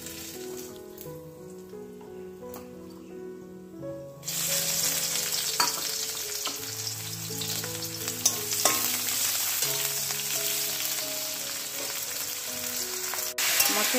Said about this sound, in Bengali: আর দেখো এখন কষাচ্ছি, দেখো কি সুন্দর হয়েছে না?